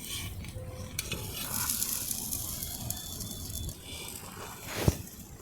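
A Marathi dhirde pancake sizzles steadily in a pan as it is flipped, with a soft scrape partway through and a small clack near the end, close and moderately quiet.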